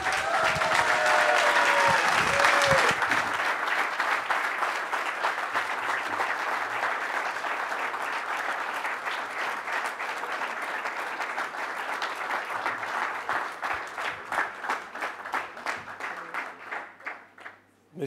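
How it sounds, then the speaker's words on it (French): Audience at a political meeting bursts into cheering and applause that settles into steady rhythmic clapping in unison, gradually thinning out and tailing off near the end, with crowd voices at first. "Je vous demande d'applaudir Ugo Bernalicis."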